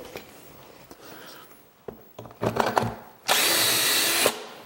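A power drill with a jig whirs in short bursts, then bites into wood for a cabinet with a loud sustained grinding whine lasting about a second before stopping.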